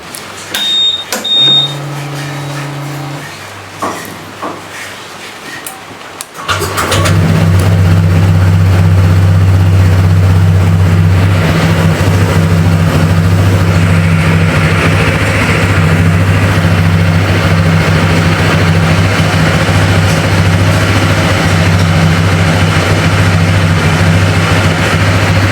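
After a few quiet clicks and faint electronic beeps, a 2025 Honda Vario 160 CBS scooter fires up and settles into a steady, loud, close idle hum that holds unchanged for the remaining twenty seconds.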